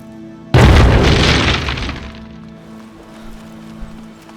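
Grenade blast in an action film scene: a sudden loud boom erupting after a brief quiet moment, then a long decaying roar and debris rumble that fades over a few seconds.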